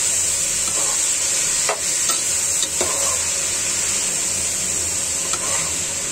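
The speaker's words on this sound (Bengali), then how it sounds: "নেড়ে নিব ভালো করে" Mixed vegetables with green banana are stirred in a sizzling pan, a steady loud frying hiss underneath a few soft scraping strokes of the spoon against the pan.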